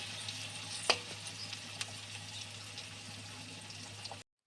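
Onions fry quietly in a pan as a steady low sizzle with soft crackles and one sharp clink of a spatula early on, the sound cutting off abruptly near the end.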